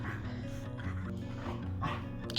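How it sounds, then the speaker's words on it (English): Puppies barking, yipping and whimpering indoors, faint and close together in short bursts over a low background. "Cute puppies."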